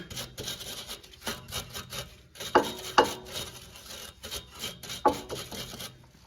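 Wire brush scrubbing bolt threads on the front shock absorber assembly of a 2007-2012 Acura RDX, a series of short rasping strokes in steady rhythm with a few sharper scrapes, close up and alone.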